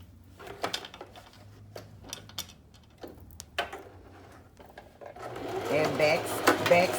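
A sewing machine runs in short stitching bursts along a seam, sewn from the bottom up during a beginner sewing session, with ticking mechanical clicks between runs and a longer, louder stretch near the end.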